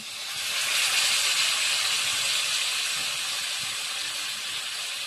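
A splash of water hitting tomatoes in a hot pan sends up a loud, continuous steam hiss that swells quickly and holds steady, close and alone, easing only slightly toward the end.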